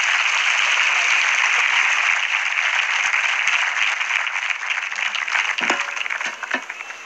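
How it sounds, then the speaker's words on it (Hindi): Church gathering audience applauding a young man after a public Bible reading, a dense steady roar of clapping that thins into a few scattered claps toward the end. "बेटे के लिए जोरदार तालियां बजा"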